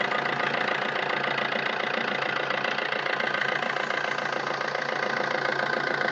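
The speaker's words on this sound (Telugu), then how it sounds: "చాలా బాగుంది ఇంజన్, చాలా సైలెంట్ ఉంది." A 2012 Maruti Ritz VDI diesel engine idles in a steady, even, continuous run at moderate volume, with no voices and no change in pace throughout.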